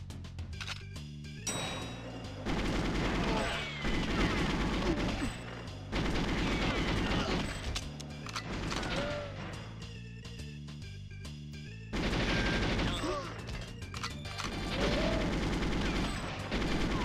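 Gunfire in the Water Caverns level of GoldenEye 007, with repeated bursts of rapid automatic shots and single cracks over steady, loud in-game music, in long stretches broken by brief lulls.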